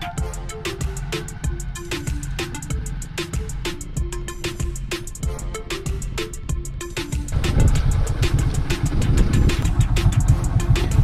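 A motorbike ride along a village road, its engine and road rush running steadily and swelling louder and rougher in the final few seconds, with tonal music audible over the motor.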